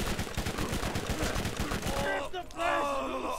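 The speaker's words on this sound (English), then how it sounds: "I really like Hammerhead's SMG. Really good for criticals" Hammerhead's SMG in Borderlands firing a fast, steady stream of close, loud shots for about two seconds, followed by enemy groans and game sounds.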